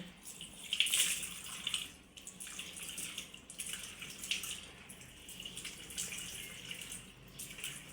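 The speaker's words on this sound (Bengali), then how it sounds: "এখন আমি মুখটা ধুয়ে নিব" Tap water running steadily into a sink during face washing, with soft splashing and dripping that swells and eases under a faint hiss, no voices.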